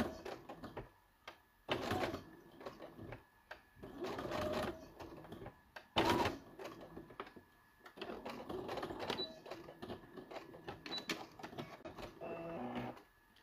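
Home sewing machine stitching fabric for a small pincushion, running in short bursts of a few stitches with pauses as the fabric is lifted and turned, fairly quiet and close.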